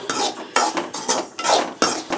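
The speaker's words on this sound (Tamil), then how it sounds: "இந்த ஸ்டேஜில் கொஞ்சம் பார்த்து விடாமல் கிண்டிகிட்டே இருக்கணும்" A spoon scrapes and clinks against a pan while semolina roasts for rava laddu, in several close, rhythmic stirring strokes with brief pauses between them.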